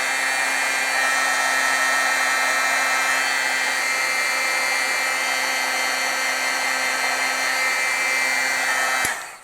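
A heat tool runs steadily for about nine seconds, heat-setting embossing powder on stamped art, a loud continuous blowing whine that cuts off abruptly at the end.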